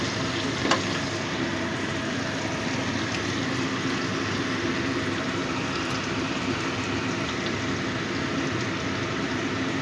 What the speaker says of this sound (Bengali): এবার আমি এর মধ্যে দিয়ে দিচ্ছি সর্ষে পোস্ত পেস্ট